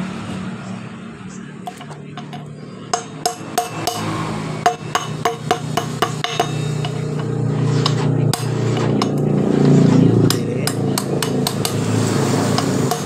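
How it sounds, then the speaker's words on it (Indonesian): A 24 socket wrench taps a wheel bearing into place in a run of sharp metallic knocks, evenly spaced at first and then sparser, with someone talking and a low mechanical hum underneath. "Saya memasang dan mengetuk di bagian laharnya menggunakan kunci 24 shock."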